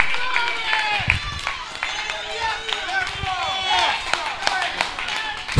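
Church congregation clapping and shouting praises during a worship service, with scattered claps and taps under continuous loud talking and exclamations, lively and busy throughout.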